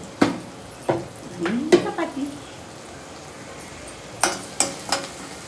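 Leftover chapati chivda being stirred in a pan: several distinct clanks and scrapes of a spoon against metal in irregular bursts, over a faint low sizzle, close by.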